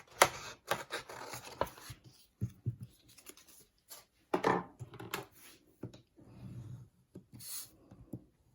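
Scissors cut through paper around the outer corners of a garden notebook with seed packets, giving a run of short, close snips and rustles with brief pauses between cuts.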